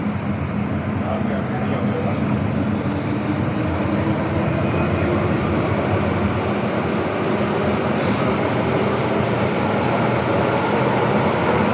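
An MTR Tsuen Wan Line M-train runs between Cheung Sha Wan and Tsuen Wan, a steady, loud broadband roar of wheels and motors heard from inside the car, with a recorded announcement audible over it.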